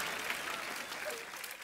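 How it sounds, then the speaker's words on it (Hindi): Studio audience applause on an Indian comedy show, a steady dense wash of clapping throughout, moderately loud with a faint voice mixed in underneath. "ओए तालियां भी"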